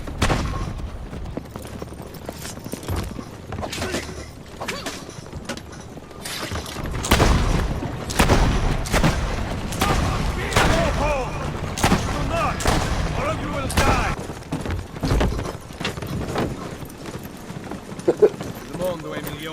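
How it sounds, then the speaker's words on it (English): Horses and carts blown up in Assassin's Creed Brotherhood, with repeated loud booms and gunfire-like blasts amid hoof clip-clop, game noise and talk throughout. "back to blowing up horses and carts."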